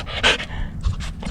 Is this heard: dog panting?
yes